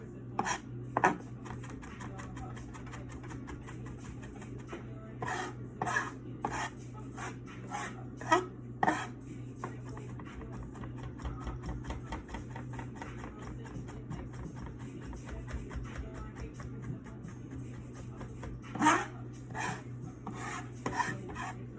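A knife rocks back and forth through fresh garlic on a board, giving a steady run of close, crisp chopping taps with a few louder knocks, over a low constant background hum.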